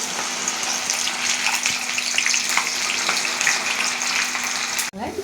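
Okra frying in oil sizzles loudly and continuously up close, with a dense spattering crackle that cuts off abruptly near the end.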